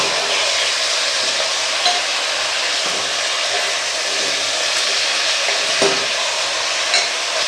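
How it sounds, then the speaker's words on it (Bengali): Steady, loud sizzling of vegetables frying in hot oil, a dense crackling hiss with occasional sharper pops and stirring clatters, no voices. "এই সবজিটা আমি একটু করে ছাড়ি তেলেতে দিয়ে তেলটা গরম হয়ে গেছে"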